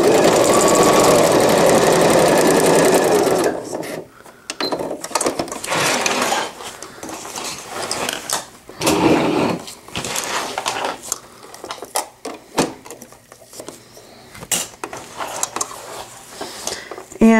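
Sewing machine stitching a cloth diaper, a short steady mechanical run at first, then broken bursts of back stitching with gear clatter and pauses, with faint handling noises between.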